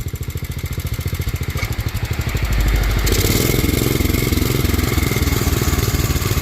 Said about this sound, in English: He's gonna pull back on the lever and show you what low gear is.